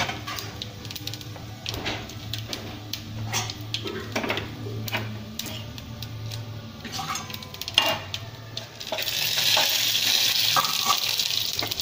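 Whole spices such as cinnamon, cardamom, cloves, star anise, bay leaf and fennel seeds frying in hot oil, crackling and sizzling up close with scattered stirring clinks, the hiss swelling louder near the end.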